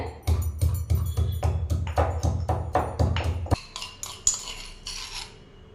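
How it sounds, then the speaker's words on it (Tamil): Ginger and garlic being pounded for a cluster bean soup, a quick run of about a dozen regular, close, knocking thuds on a hard surface, followed by a few lighter metallic taps and clinks. "இந்த இஞ்சி பூண்டு வந்து இந்த அளவுக்கு தட்டி எடுத்துக்கோங்க"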